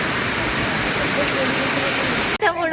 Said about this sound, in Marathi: खूप पाऊस झाला.